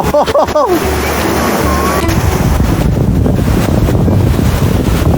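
Sea waves washing onto the beach at Cha-Am, a continuous loud rush of surf mixed with heavy wind buffeting the microphone, with a brief voice at the start.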